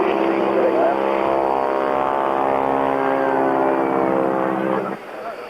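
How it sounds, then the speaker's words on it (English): A classic jet aircraft flying at the 1998 Cranfield airshow gives a loud, steady engine roar that fades near the end, with a commentator talking over it. "Pushing the aircraft on the side, so that it's flying further on."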